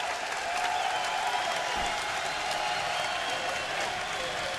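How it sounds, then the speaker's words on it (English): A large arena crowd at a TNA Bound For Glory 2009 wrestling pay-per-view at the Bren Events Center, UC Irvine, roars and applauds in a steady, dense wash of cheering that holds throughout. "You hear the reaction from the crowd here at the Brent Event Center, UC Irvine, Southern California"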